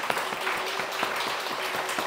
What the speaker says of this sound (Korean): 우리 함께 박수로 함께 축복했으면 좋겠습니다